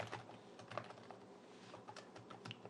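Typing on the keyboard of an Asus Zephyrus G15 GA503 gaming laptop, a steady run of soft, quiet key clicks with small irregular bursts and no voices.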